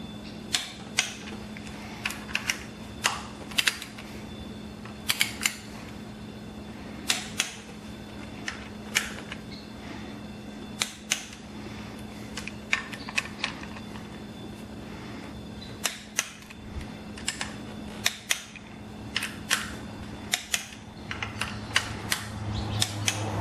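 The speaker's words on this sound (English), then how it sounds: "I'm going to torque this bearing retainer up to 25 pounds" A torque wrench tightening a clutch bearing retainer on a 5.9 Cummins clutch install, scattered sharp metallic clicks over a steady low hum, close and moderately loud, with no speech.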